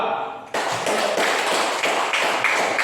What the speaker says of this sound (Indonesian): mari kita berikan aplaus untuk kelompok 2